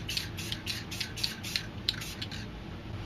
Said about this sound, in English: I'm going to spray some black down here to add some shading to the moon